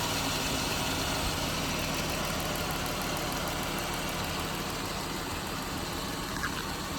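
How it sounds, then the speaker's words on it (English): An overheating car engine with freshly changed coolant idles while warming up during cooling-system bleeding, a steady low hum at moderate level with no talk. "Let the engine warm up."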